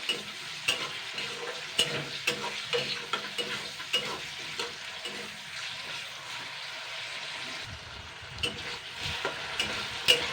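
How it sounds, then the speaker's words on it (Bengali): Soft crackling sizzle of potatoes frying in oil, punctuated by repeated clicks and scrapes of stirring at an irregular pace; no voices. "আলুটাকে আমি দুই মিনিট মতন ভেজে নিয়েছি ঠিক আলু ভাজার মতন করে"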